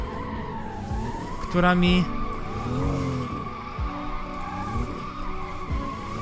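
BMW M2 tires squeal while drifting in Assetto Corsa, a sustained skid layered over a wavering, revving engine with a sharp burst of squeal and throttle early on, while someone talks over it.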